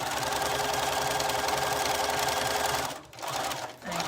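A sewing machine stitches a hem in a fast, steady run of close mechanical whirring, then stops briefly twice near the end, with no talk.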